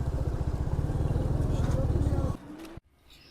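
A motorcycle rumbles steadily up close with a pulsing low engine note as it is ridden into a parking area on a cold mountain trip toward Badrinath, then cuts off abruptly, leaving faint background noise.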